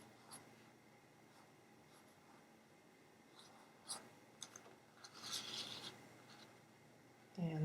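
A pen writing by hand on a greeting card gives soft, scratchy strokes in short, uneven bursts, faint and close, with quiet pauses between words.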